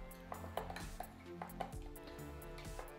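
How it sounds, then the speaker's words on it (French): A spoon stirs a gelatin mixture in a bowl, giving faint repeated clinks and scrapes in a quick irregular rhythm over a low background hum. "on mélange pour qu'elle soit vraiment bien dissoute dedans"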